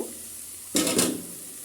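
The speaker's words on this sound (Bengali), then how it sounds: "এ পর্যায়ে আমি একটু নাড়া দেব" Leftover rice with peas is stirred in a hot pan, giving a short scraping sizzle burst that swells briefly and fades over a quiet background.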